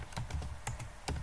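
Quick keystrokes on a computer keyboard, about half a dozen crisp clicks tapped in an uneven rhythm, close and fairly quiet with no talking.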